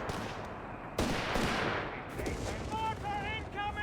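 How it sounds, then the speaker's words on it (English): Mortar fire in the Company of Heroes 3 strategy game lands as a sharp, heavy blast followed by a rumbling tail, then thinner crackling battle noise and high whining tones, all at moderate level. "Mortar fire there on the flak gun as well"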